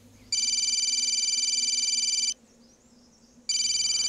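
A phone rings with a bright electronic trilling tone, two long bursts separated by a short pause, clear and close with no talking.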